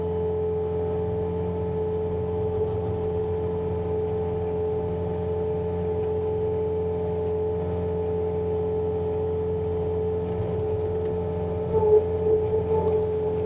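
A Bobcat T66 track loader running a snowblower attachment with the auger turning, a steady droning engine and mechanical hum with a constant tonal whine, close and even throughout, rising slightly near the end.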